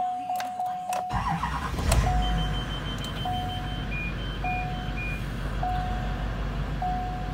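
A 2009 Chevy Duramax 6.6 diesel pickup with 162,000 miles cranks and fires after a few clicks, settling into a low, rough idle, with repeated dashboard chimes beeping steadily over the engine.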